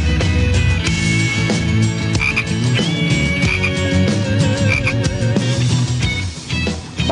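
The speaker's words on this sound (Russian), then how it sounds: "На свободу, лягушка." Frogs croak loudly and repeatedly at a garden pond right after being released back into it, a close, continuous chorus of rhythmic calls with no talking over it.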